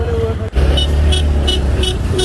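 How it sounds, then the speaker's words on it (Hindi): Steady road traffic rumbles past on a busy street beside a bridge construction site near the Rapti river bridge, with continuous engine noise, a brief dip, and repeated short horn toots over the top. "बाकी ट्रैफिक भी है।"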